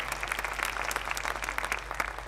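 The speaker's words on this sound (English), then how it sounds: "You can give the Lord a hand clap there." A congregation claps together for the Lord during a church sermon, a steady dense patter of many hands sustained through the moment with a low hum underneath.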